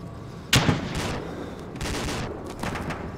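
Gunfire in the military game ArmA 2: a sharp loud burst of shots, then two longer rattling volleys of automatic fire, spread over a few seconds with no talk.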